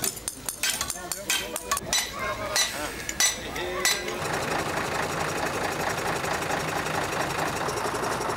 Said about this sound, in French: Après séchage, il faut malheureusement se résoudre à découper la mosaïque en panneaux aisément